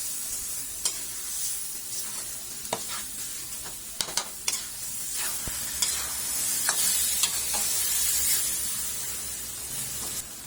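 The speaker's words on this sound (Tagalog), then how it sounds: "ilagay na natin yung ating na-marinate na pork kasim. Igisa lang natin yan habang hinahalo for at least 2 minutes" Marinated pork kasim sautés in a pot for menudo, a loud steady sizzle broken by repeated scraping strokes and clacks of a spoon being stirred through the meat, close up and without talk.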